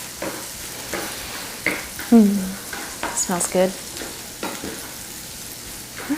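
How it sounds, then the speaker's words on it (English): Butter melting in a pan with green beans gives a soft, steady sizzle and frying crackle, with a few louder stirring scrapes near the middle and a brief spoken remark. "Now listen for a happy little sizzle."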